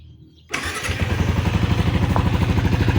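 A Yamaha Sniper 155 VVA motorcycle engine, newly repaired after a noisy tensioner, cranks and fires up after a brief quiet moment, then settles into a steady, even idle close by.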